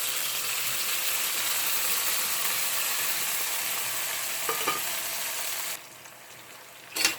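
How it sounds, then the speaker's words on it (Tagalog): Tuna and bitter gourd frying in a pan, a dense close sizzle with a few scraping stirs. Near the end the sizzle drops off sharply, then a final clatter. "Haluin natin."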